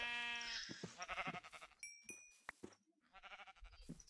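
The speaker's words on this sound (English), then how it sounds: "Oh, sweet sheep." Sheep in the Minecraft video game bleat several times in quick succession, loud and close, with harmonic wavering calls and a few clicks and soft game sounds between them; no one speaks.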